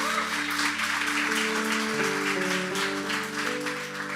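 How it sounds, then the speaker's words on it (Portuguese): Church congregation applauding during a sermon, a broad sustained wash of clapping from many people over steady musical tones, moderately loud and slowly tapering toward the end. "Você pode aplaudir o Senhor por isso?"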